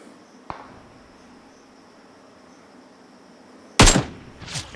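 PUBG video game gunfire: a single sharp shot early on, then after a quiet stretch with a faint steady whine, a loud burst of shots followed by another close report.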